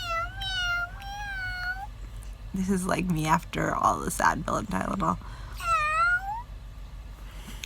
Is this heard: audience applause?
no